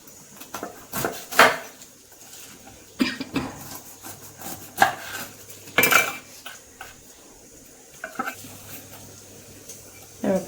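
A knife slices the sides off a fresh pineapple on a cutting board, giving a series of close, crisp chopping and scraping knocks at an uneven pace, with someone speaking between the cuts.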